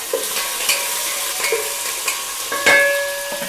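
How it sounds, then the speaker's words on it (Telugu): Green chillies fry in a pan for khichdi while being stirred, a steady close sizzle with a spoon scraping and clinking against the pan at intervals. "పచ్చిమిర్చి వేసుకున్న తర్వాత ఒకసారి కలుపుకుందాం"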